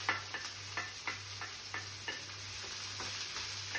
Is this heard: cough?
no